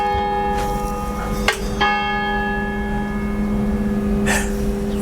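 Church bells ring in Portugal, with a sustained bright metallic tone and a couple of fresh strikes layered over the lingering resonance, fairly near and loud.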